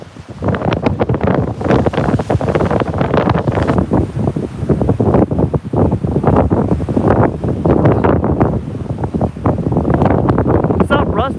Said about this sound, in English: The wind picked up like 5 minutes from my destination